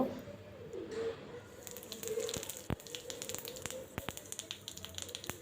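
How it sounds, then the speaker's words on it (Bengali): Bay leaf and cumin seeds hit hot oil left over from frying fish, giving a steady, close sizzle with bursts of crackling and popping that grow denser toward the end. "ওখানে আর একটু তেল দেব, তারপরে তেজপাতা আর জিরা ফোড়ন দেব"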